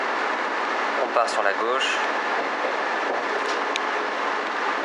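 A train rolls out of Hyogo station on Japan's Wadamisaki Line, a steady rumbling run heard close from onboard, with someone talking briefly over it.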